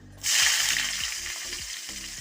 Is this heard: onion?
yes